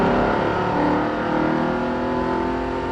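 A car engine with a newly installed replacement motor revs steadily and loudly for three seconds, a dense continuous roar with a slightly uneven, wobbling running note throughout.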